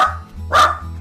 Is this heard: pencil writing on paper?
no